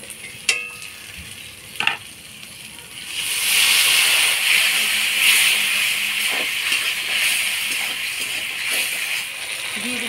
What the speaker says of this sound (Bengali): মশলার বাটি ধোয়া জল দিয়ে মশলাটা ভালো করে কষাই নেব